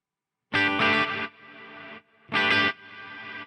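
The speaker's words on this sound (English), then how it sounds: "That reverb ducking, I think, is great and really useful." Guitar tone played through a Quad Cortex with a ducking reverb: two loud, distorted chord strikes, each followed by a swell of reverb tail that rises once the playing drops away, with no one talking.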